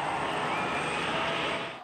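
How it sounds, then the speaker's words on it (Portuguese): An airplane carrying Germany's national football team makes a low flyover above cheering fans in Berlin before landing, a broad steady engine roar filling the air and fading slightly at the end. "Antes de pousar, o avião fez um sobrevoo para saudar os torcedores"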